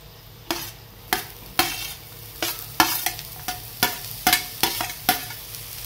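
Onion sizzles in a pan while a spoon stirs it, a steady frying hiss under about a dozen sharp scraping strokes at a brisk, uneven pace, close and moderately loud, with no talk.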